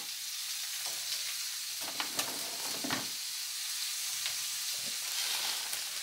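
Sliced frozen jackfruit fries in a pan, giving a steady, close hiss of sizzling broken by a few sharp crackles and pops, with no voices present.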